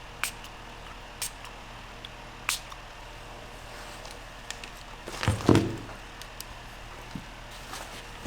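A short spritz of alcohol ink sprayed onto synthetic paper: a single brief, fairly loud hissing burst, with a few faint taps and a quiet room before and after.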